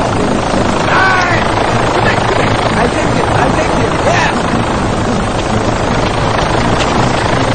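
Helicopter rotor drone in a film scene, a dense steady roar under the whole stretch with voices speaking over it.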